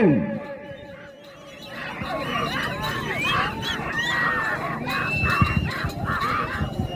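Crowd at a bullock race shouts and screams, the dense babble of many voices swelling steadily with sharper yells breaking out above the din, close and loud throughout, with occasional honk-like calls mixed in.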